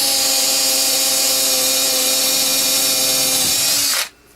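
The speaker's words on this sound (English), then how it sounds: "now I'll just drill." A power drill whines loudly and steadily for about four seconds while drilling into a knife handle, its pitch dipping slightly under load, then cuts off abruptly into near silence.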